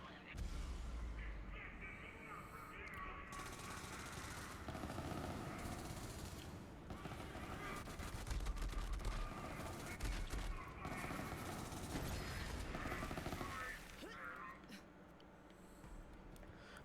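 Dense, continuous video game gunfire in Borderlands-style Mayhem 10 combat, rapid overlapping bursts and booms sustained throughout at close range, with talk running over the shooting.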